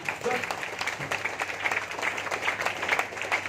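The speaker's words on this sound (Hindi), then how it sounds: "चांद सर के लिए एक जोरदार ताली" A seminar audience of technical leaders claps for an honored guest, moderate applause with a faint voice beneath, the clapping even and continuous across a few seconds.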